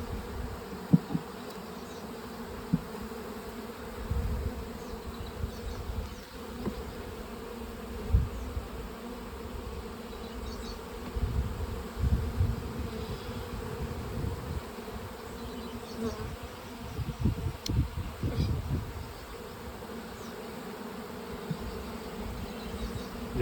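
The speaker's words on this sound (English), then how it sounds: "this swarm trap with just 5 frames, it was getting pretty full" Honeybee swarm buzzing while frames are moved from a five-frame swarm trap into a hive body, a continuous close hum with individual bees droning past, joined by scattered soft knocks and scrapes of handled frames.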